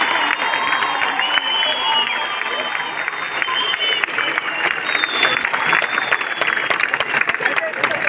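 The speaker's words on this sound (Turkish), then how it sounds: "alkışlarınızla sahneye davet etmek istiyorum" Crowd applause and cheering fill an outdoor concert at a Republic centenary celebration in Mezitli, Mersin, with a dense, steady clatter of clapping under an amplified presenter's voice.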